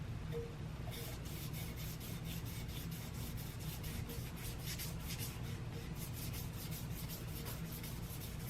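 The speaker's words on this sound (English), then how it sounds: "I did a few passes with the finishing grit" Finishing-grit paper rubbed in repeated passes along the crankshaft of an Eclipse GST, a dense continuous sanding hiss with rapid back-and-forth pulses, close and steady without pause.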